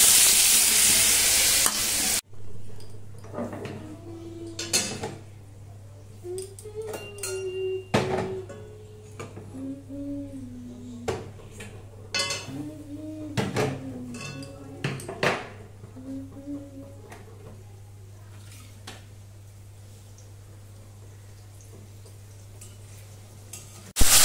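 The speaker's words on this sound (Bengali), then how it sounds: "তো তেল গরম হয়ে গেছে, এবারে এই পনিরগুলো দিয়ে দিই।" Paneer pieces fry in hot oil in a home kitchen pan, giving a steady, close sizzle punctuated by scattered clicks and scrapes of stirring, after a brief loud burst at the very start.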